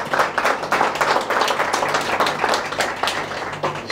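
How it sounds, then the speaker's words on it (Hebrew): An audience at a thanksgiving-meal religious talk in Bnei Brak claps in a quick, fairly loud burst, a run of close hand-claps with no talk over them. "מגיע לה, אני חושב, מחיאות כפיים על זה שהיא פה איתנו"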